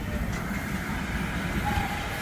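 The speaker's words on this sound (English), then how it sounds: "The Newark bound train." Close, continuous rumble and rail rattle of an 8-car PATH train heading toward Newark as it rolls through Harrison, staying loud and even for the whole stretch.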